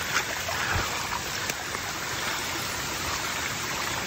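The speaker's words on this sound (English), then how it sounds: "There's the creek flowing, running beside the trail." A mountain creek beside a hiking trail on Franconia Ridge flows steadily nearby, a continuous rushing wash of water with no voices over it.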